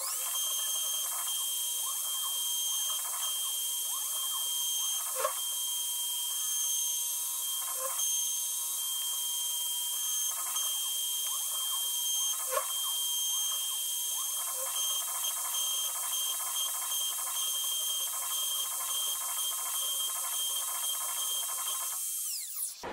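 An engraving machine scratches across a curved aluminium sheet, giving a continuous high-pitched whine with a rapid, ratchet-like scraping texture and occasional sharper ticks, close and steady, ending abruptly.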